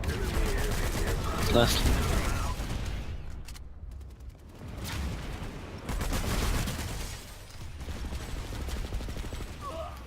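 Shotgun blasts boom amid rapid game gunfire, loud and close with dense overlapping shots, while a person speaks briefly over the barrage.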